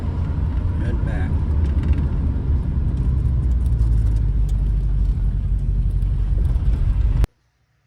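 A V8 Ford Falcon on a test drive, its engine and road noise forming a loud, steady low rumble from inside the car that cuts off abruptly at the end.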